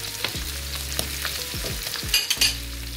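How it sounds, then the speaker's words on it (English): Salmon and shrimp searing in a pan: a steady background sizzle with repeated low thumps and a few bright metallic clinks from a utensil, up close, with no speech. "we are just searing it because it's gonna cook fully in the salt."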